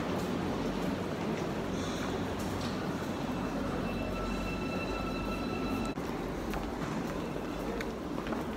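An Almaty metro train rumbles steadily and fairly close, a continuous low roar with faint whining tones riding on top.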